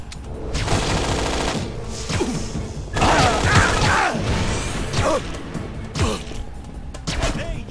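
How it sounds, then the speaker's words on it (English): Gunfire in a video game rattles in dense bursts of rapid shots and impacts aimed at the player, loud and close, with a few heavier thuds and mechanical clacks between volleys. "Please stop shooting me."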